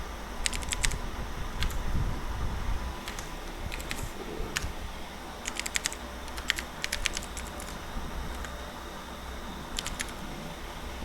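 Typing into a web form on a computer keyboard: clusters of crisp key clicks with short pauses between bursts over a steady low background hum, close and moderately quiet, with no speech.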